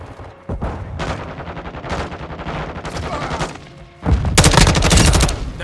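Loud, close automatic gunfire in a video game comes in dense rattling bursts, separated by brief pauses. A heavier, sustained volley erupts toward the end.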